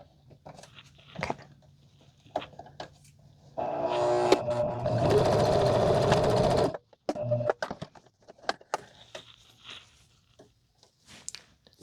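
A domestic sewing machine runs a steady burst of stitching for about three seconds mid-clip, loud and close, framed by scattered clicks, taps and handling noises before and after.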